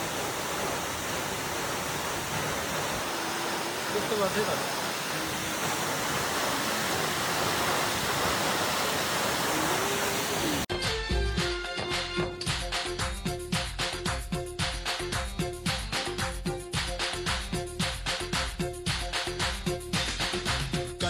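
A steady, rushing roar of a waterfall at Kulekhani, Nepal fills the first half, then gives way to a busier, rhythmic clattering sound.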